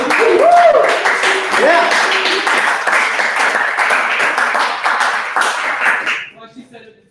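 Audience applause at an evening information session in Tallahassee, a steady roar of clapping that holds for about six seconds, then drops away abruptly; a voice briefly calls out near the start.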